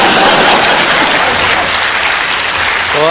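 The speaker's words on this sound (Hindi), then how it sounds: "और अब आपकी तालियां उठेंगी" Large audience at a Hindi comedy and poetry show breaks into loud, dense, sustained applause, a continuous wash of clapping filling the whole stretch, with a faint tone rising near the end.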